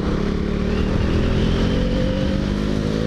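A KTM Duke 390 motorcycle engine accelerates hard in third gear toward the rev limiter, a loud, close, rising single-cylinder drone with no voices over it.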